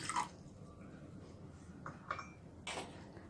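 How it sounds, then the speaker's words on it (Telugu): Water goes into a bowl for making green tea, heard as a few separate faint drips and small splashes against a quiet background. "1 కప్పు వాటర్ వేసుకోవాలి."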